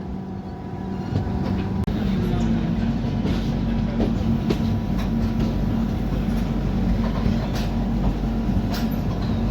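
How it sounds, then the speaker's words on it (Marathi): Mandovi Express pulling out of Ratnagiri station on the Konkan Railway in monsoon weather, a steady, loud low rumble of wheels and carriages rolling continuously throughout with faint talk in the background. "रत्नागिरी रेल्वे स्टेशनवरून आपली ट्रेन जी आहे ती निघालेली आहे"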